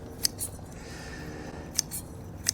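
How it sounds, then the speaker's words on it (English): Garden shears snip yellowing foliage off a late-season annual, three quick, faint metallic clicks spaced irregularly over a quiet outdoor background. "I'm just going to trim that off."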